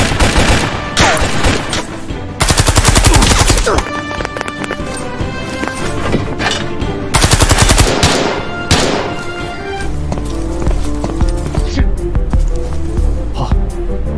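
Film scene with guards firing at a man: bursts of rapid gunfire and heavy shots crack out repeatedly over a busy background of movement and effects, loud and chaotic.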